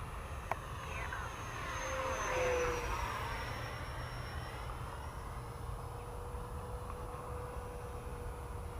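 An FMS 70mm F-18 model jet flies overhead in a steady, whooshing turbine roar, with a high whine, swelling to a peak as it passes near and then fading slightly into a continuous drone.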